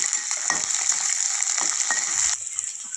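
Chana dal, green chilies, onion and curry leaves frying in hot oil while being stirred, giving a loud continuous sizzle with repeated scraping strokes of the spoon, then a slight drop in intensity near the end.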